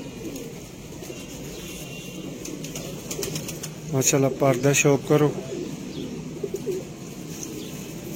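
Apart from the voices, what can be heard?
pigeons cooing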